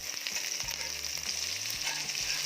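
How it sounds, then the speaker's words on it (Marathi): Onion frying in about two spoonfuls of oil in a kadai, a steady close sizzle with bright hissing crackle and a few soft stirring knocks, no voices. "कढईमध्ये थोडं तेल घेतलेलं आहे दोन चमचे आणि त्यामध्ये कांदा टाकत आहे कांदा छान परतून घेऊया"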